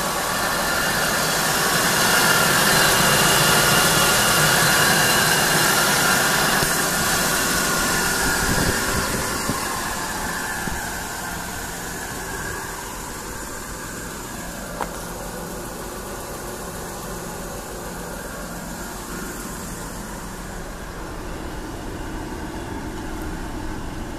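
Dodge Caravan engine running steadily at idle after a jump start, a close, continuous mechanical hum with a light knocking rattle that eases slightly in level partway through, with no talking.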